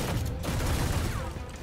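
Odin machine gun fire in the video game Valorant, a dense, continuous stream of rapid shots running steadily throughout, close and fairly loud with no talk over it.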